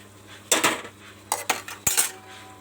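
A utensil stirring fish curry in a metal pot gives a few bright clanking scrapes in three short bursts against a faint background hum, with no talking.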